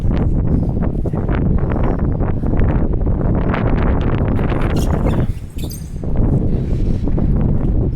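Strong wind buffets a microphone outdoors on a downtown city street near Spring Garden Road, a loud continuous roar with gusty rumble that briefly drops around the middle before surging back.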